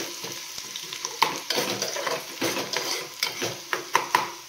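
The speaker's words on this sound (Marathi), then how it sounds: "हा टाकला कांदा. मिक्स करून घ्यायचं." Chopped onion stirred and fried in a pan for Maggi noodles, the spoon scraping in repeated uneven strokes over a continuous close sizzle.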